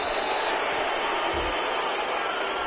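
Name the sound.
crowd reacting to penalty call in Madden 22 video game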